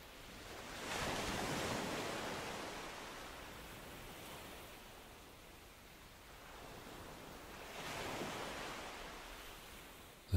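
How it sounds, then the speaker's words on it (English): Ocean waves wash up on a sandy beach. Two broad swells rise and fall around soft, steady surf, and there is no voice. "Listen to the timeless curl of the waves as they spread a lacework of foam on the sand."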